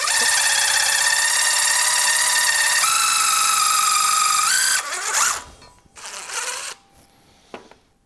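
A DeWALT drill with sharp bits cuts into material with a loud, steady high whine that drops in pitch partway, then stops abruptly, followed by a couple of short bursts and clunks close by.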